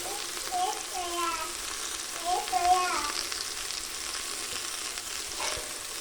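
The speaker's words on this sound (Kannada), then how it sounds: "ಎಣ್ಣೆಯಲ್ಲಿ ತಿರುಗಿಸ್ಕೋಬೇಕು ಸ್ವಲ್ಪ." Vegetables for palaw being stirred and fried in oil give a steady sizzle, with scraping stir strokes and someone speaking over it at moderate level.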